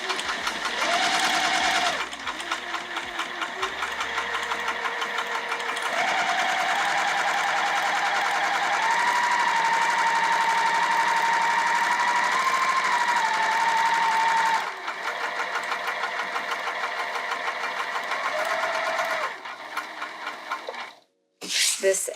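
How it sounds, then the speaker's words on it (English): A sewing machine stitches curves on a fabric bag, its steady mechanical whirring running in long stretches broken by short pauses where the work is pivoted, and a brief stop near the end. "I don't really want to reduce my stitch length, so I'm going to do a lot of pivoting and just call it good."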